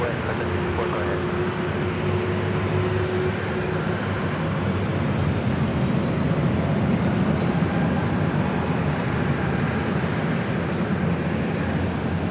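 A Southwest Airlines airliner in Arizona One livery roars steadily at LAX, a loud, sustained jet engine drone holding throughout with a faint tonal whine early on.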